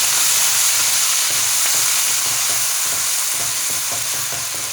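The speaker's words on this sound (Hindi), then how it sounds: "प्याज के अंदर मिक्स करेंगे" Garlic and ginger paste stirred into golden frying onions: loud continuous sizzle with a rhythmic series of spatula scrapes and knocks against the pan, close up, nobody speaking.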